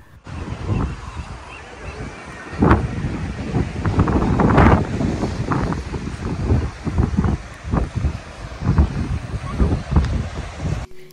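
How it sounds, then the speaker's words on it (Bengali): Strong gusting wind roars against the microphone with a heavy, buffeting rush, and faint seabird cries rise intermittently through the noise. "কি জোরে আওয়াজ হচ্ছে হাওয়ার আর তার সঙ্গে পাখিদের চিৎকার"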